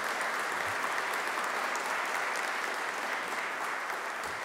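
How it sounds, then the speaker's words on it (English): Steady, dense applause from an audience honoring a congressman at an event announcing a water strategy, continuous and even throughout with no voices on top. "He deserves a round of applause."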